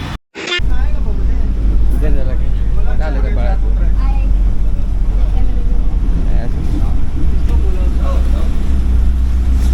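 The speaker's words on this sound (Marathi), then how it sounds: "आली बस" Heavy bus engine rumble rolls in and stays loud and steady as a city bus pulls up at Sanjay Gandhi National Park, Borivali, Mumbai, in rainy weather, with people talking over it nearby.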